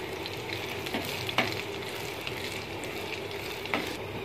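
Chillies frying in a tadka for dal give off a steady, moderate sizzle with a few sharp crackles and pops scattered through it.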